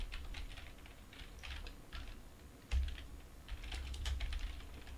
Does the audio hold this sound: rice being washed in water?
no